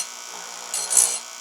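A cheap bench grinder sharpens a Stihl MS291 chainsaw chain, a steady high grinding hiss that swells briefly in the middle before easing off.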